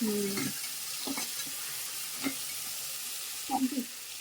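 Ginger garlic paste frying in a pan, heard as a faint, quiet sizzle broken by a few soft clinks and stirring taps, close by and without talking.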